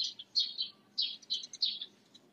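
Several birds chirp and tweet in short, bright bursts around a house, with brief pauses between calls, fairly faint against a low background hum and no talking.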